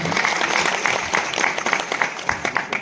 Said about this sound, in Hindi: जोरदार तालियों के साथ अभिनंदन करें।